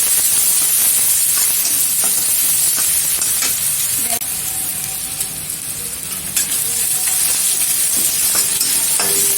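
Onions sizzle and hiss steadily as they brown in a hot pan, a loud, continuous frying sound with occasional faint scrapes of stirring.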